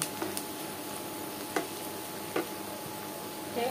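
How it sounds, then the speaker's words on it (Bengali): Three pieces of cinnamon and two bay leaves fry in oil in a pan for an egg and potato curry, giving a soft, steady sizzle punctuated by a few faint crackles and ticks, with no one speaking. "দারচিনি এবং তেজপাতাগুলোকে আমি একটু তেলের সাথে ভেজে নেব।"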